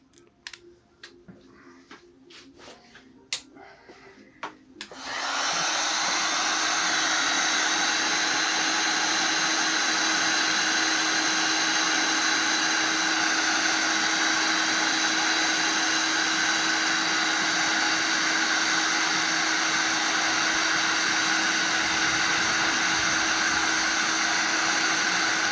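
A heat gun switches on after a few quiet clicks and handling noises, then blows with a steady, loud, even whoosh and fan whine while warming the crown of a Kawasaki ZZR600 motorcycle piston.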